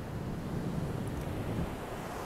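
Sea waves wash steadily onto a beach, giving a continuous broad roar with some wind, and no voices.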